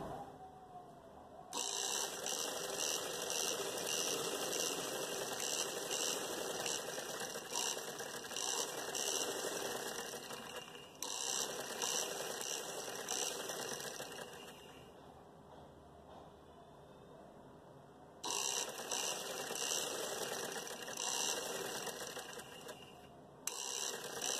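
Sewing machine stitching elastic into a pair of trousers, a steady close mechanical whirring run in long stretches broken by brief pauses as the needle stops and restarts.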